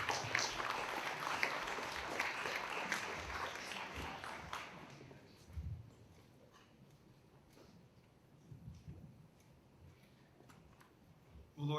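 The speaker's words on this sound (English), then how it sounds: "please give a big round of applause to Father Panagiotis Boznos." Outdoor audience applause at a Greek Independence Day flag raising in Aurora, fairly faint and distant, with steady clapping for several seconds that then thins to scattered claps and background noise.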